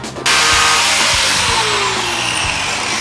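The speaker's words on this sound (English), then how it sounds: "You want to remove these little ears off the shock cover using a Dremel tool" A Dremel rotary tool grinds away the small ears on the plastic shock cover of a Polaris RZR, a loud, close, continuous high whine that starts abruptly and holds for about three seconds.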